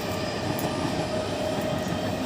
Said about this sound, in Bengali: ট্রেন দেখুন, কথা বলা যাবে না তো